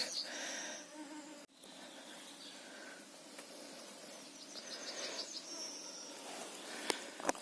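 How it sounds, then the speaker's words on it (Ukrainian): Mosquitoes whine close to the ear in a forest during mushroom picking, a thin, wavering buzz rising and fading over quiet woodland background, with a few soft handling knocks. "Ну, Комарі, як завжди."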